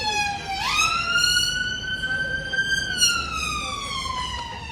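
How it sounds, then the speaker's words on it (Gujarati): An ambulance siren passes along a UK street, one long wail that rises, holds and slowly falls, fairly loud over low traffic rumble. "એમ્બ્યુલન્સ જાય છે."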